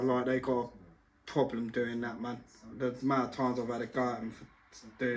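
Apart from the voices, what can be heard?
No distinct noise like a dog, phone or traffic.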